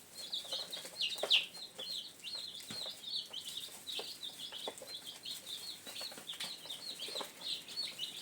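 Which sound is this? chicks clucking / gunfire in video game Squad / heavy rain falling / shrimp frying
chicks clucking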